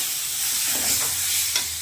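A spoon scrapes and stirs crab curry in a hot pan over a steady sizzle, with a few soft knocks against the pan.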